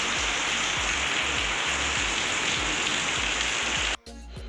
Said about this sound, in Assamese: এতিয়া মানে পূৰা ডাঙৰ বৰষুণ দিছে